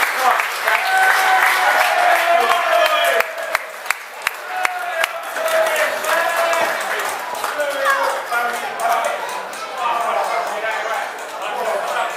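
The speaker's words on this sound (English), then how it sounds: "Give a little round of applause to Brian and Pat." An audience at a charity game day Hall of Fame event breaks into loud, sustained applause for two honorees, dense clapping mixed with crowd chatter while a voice talks over it close by.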